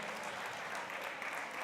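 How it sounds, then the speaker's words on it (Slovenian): Faint, distant applause from an audience at the Femme Fatale 2017 event, a steady wash of clapping for Astrid Kljun with no voices over it. "Prosim, en lep aplavz za Astrid Kljun"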